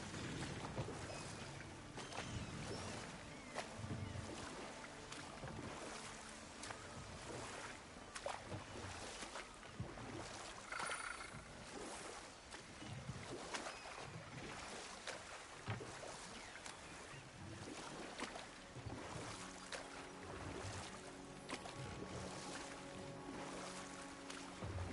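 Steady rushing roar of a waterfall in the God of War video game, a dense broadband wash of falling water that holds evenly throughout, with no talking.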